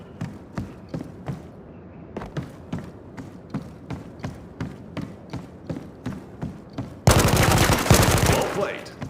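Gunfire in the max-difficulty VR shooter Zero Caliber 2: a steady string of sharp, evenly spaced single shots, then a loud dense burst of sustained noise near the end.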